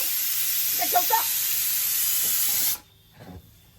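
A kitchen pressure cooker vents steam with a loud, steady hiss that cuts off abruptly near the end, while a faint voice murmurs underneath.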